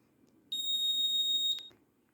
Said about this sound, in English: It is giving buzzer sound and LED is also turning on.